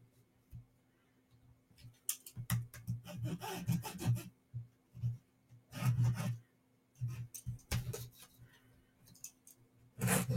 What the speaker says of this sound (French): je vais me dessiner mes 1 cm tout autour d'une de mes pièces